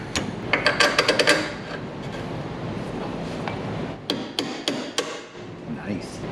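A hammer strikes a car exhaust during a suspension build, a quick run of sharp metallic clanks followed by a pause and then another spaced series of loud bangs, close by.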